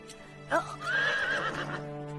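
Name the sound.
horse neighing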